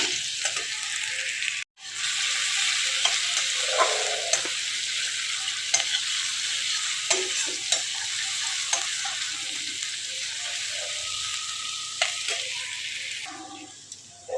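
Prawns fry in a pan for a Bengali saur chingri curry: a loud, continuous sizzle with scattered utensil ticks and one very brief dropout near the start, without any talking.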